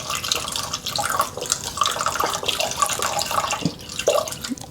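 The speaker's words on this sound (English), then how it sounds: "And I rinse off the spatula at the same time to get all that starter off it." Tap water runs continuously over a spatula being rinsed of spelt sourdough starter, close and fairly loud, with splashing and small clinks.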